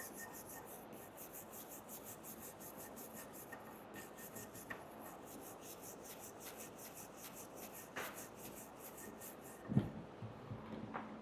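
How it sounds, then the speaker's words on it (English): A wire brush scrubs rust and grime off a Jeep Renegade front brake caliper bracket, making a faint, steady, rapid scratching with a few light knocks and no talking. "just take a wire brush here and try to get it all cleaned up"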